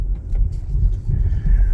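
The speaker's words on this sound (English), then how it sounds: "it's just road noise" Low, steady road rumble inside a Nissan Leaf S electric car, a dense bass drone with a faint whine above it and no engine note, continuous at moderate level.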